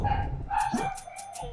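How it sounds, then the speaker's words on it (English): A dog barks a few times close by, a short burst of yips and bow-wows with a whimpering edge, rising over a low steady background hum. "My dog be barking right now."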